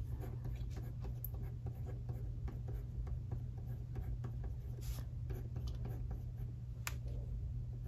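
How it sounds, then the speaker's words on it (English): A pen scratches across the page of an hourly vertical Happy Planner, a soft, close, continuous scribbling with faint ticks, steady under a low background hum. "So I'm just gonna write this in and color code it."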